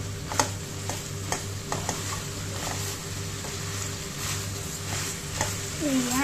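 Potatoes frying in a pan for a chicken Thai curry: a soft, continuous sizzle broken by sharp ticks and clacks of a utensil stirring against the pan, with a person speaking briefly near the end.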